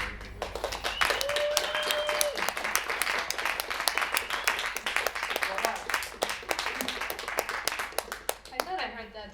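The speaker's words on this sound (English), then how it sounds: "So please give her all the very big applause." An audience claps after a Carnatic music concert of South Indian sacred music, a loud stream of many separate hand claps that keeps going with only small dips, and a voice comes in near the end.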